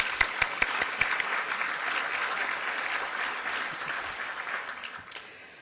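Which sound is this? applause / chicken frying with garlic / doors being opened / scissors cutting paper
applause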